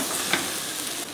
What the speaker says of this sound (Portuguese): Vamos mexer bem.